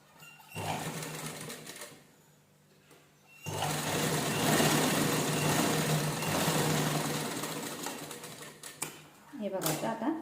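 Sewing machine stitching two layers of saree fabric, a fast steady whirring run lasting several seconds, then a brief pause and a short second burst near the end.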